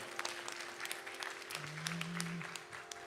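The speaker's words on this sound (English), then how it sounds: "Another round of applause for him." Audience applause at a live Bharatanatyam arangetram dance recital, a steady wash of clapping throughout, with a sustained tonal hum running underneath.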